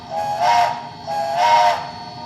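Southern Pacific five-chime steam whistle sound from a Bachmann K4s HO-scale model locomotive, blown twice as two sustained chords with a hissy edge, clear and fairly loud with no talk.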